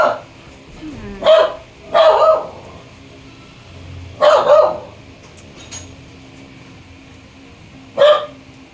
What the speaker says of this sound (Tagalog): Walang ginawa kundi kumahol.